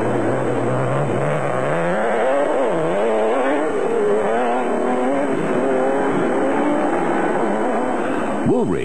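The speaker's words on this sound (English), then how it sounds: "Foss and Griffith were next away in the proudly South African Nissan Hardbody" A Nissan Hardbody off-road race truck drives through an off-road race course in South Africa, its engine revving and changing pitch as it accelerates and shifts, loud and continuous throughout.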